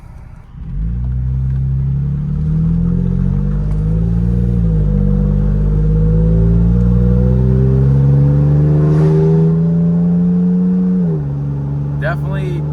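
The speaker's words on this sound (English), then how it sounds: "I'm about to pull out, and it's gonna be loud as balls because of the windows being down, but I really want to hear it." A Toyota Tacoma with an AWE dual exhaust pulls away with its windows down, giving a loud, close, sustained engine drone whose pitch climbs steadily, dips briefly near the end and then settles, with talk over it.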